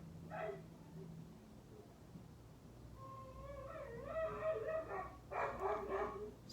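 Several dogs in a home bark, yip and whimper in scattered bursts, getting more excited and louder toward the end, with no talk over them.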